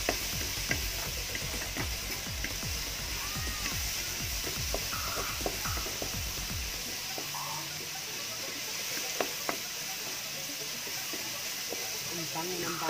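Pounded, crushed garlic fries in oil until browning, a continuous bright sizzle with scattered pops and utensil taps, close and steady, with a voice speaking briefly over it.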